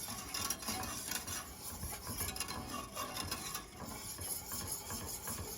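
A whisk scrapes and clinks steadily against a pan as milk gravy heats toward a simmer, a continuous close-up metallic stirring with no voices.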